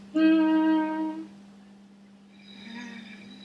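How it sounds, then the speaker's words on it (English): A person hums a steady, clear tone during a voice therapy session, holding it for about a second before it fades into a quieter, breathier second sound, with a constant low background hum throughout. "can you please hum for me like this?"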